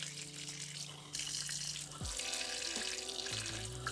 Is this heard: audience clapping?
no